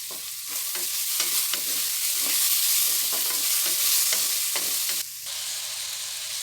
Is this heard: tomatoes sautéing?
yes